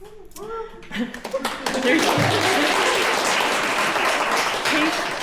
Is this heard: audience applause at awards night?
yes